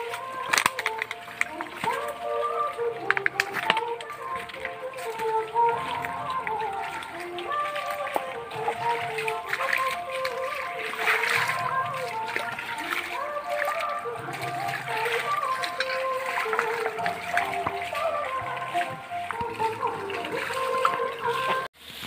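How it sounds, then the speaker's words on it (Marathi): A small rural stream flowing along its old channel beside a road, with continuous moderate trickling and splashing water heard close by throughout, with no other sounds standing out. "तर आता पूर्वीच्या ठिकाणी व्हाळी वाहते"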